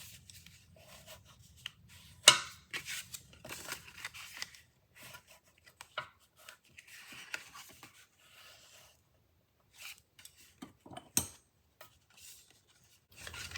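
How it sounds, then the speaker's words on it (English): Soft rubbing and scraping of a bone folder pressed along paper folds of a pop-up card, in intermittent quiet strokes with a few sharper taps and rustles, close up and without talk. "Now I'm going to use my bone folder to reinforce everything."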